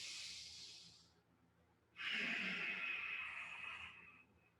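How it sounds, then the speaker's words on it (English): Forceful yoga exhalations pushed out through the nose, two strong breathy hisses separated by a short pause, close and fairly loud with no talking. "as you force the air out through the nose, use the diaphragm as you push the air out"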